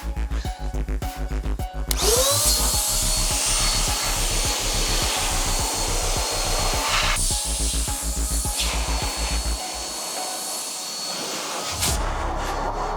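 An air dryer blows over a car's wheel arches during detailing, a loud steady whooshing roar that starts abruptly after a couple of seconds of machine hum and runs on continuously.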